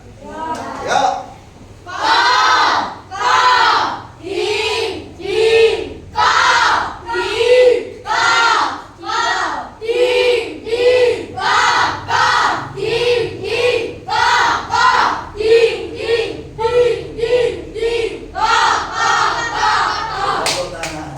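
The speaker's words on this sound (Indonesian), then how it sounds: "saya ingin mendengarkan suara anak-anak, semangatnya" Schoolchildren in a classroom shout together enthusiastically in rhythmic bursts, about two dozen loud group calls in a steady chant-like pattern with brief pauses between.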